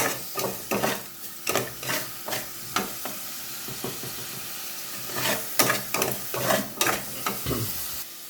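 Vegetables browning in a pan for a morning gulay dish, a low sizzle under repeated, irregular clanks and scrapes of a spatula stirring, close and fairly loud.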